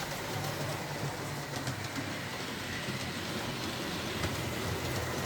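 A model railway train runs along the track on a school layout, a steady, fairly quiet rolling rumble with soft clicking from the rails throughout, and no voices.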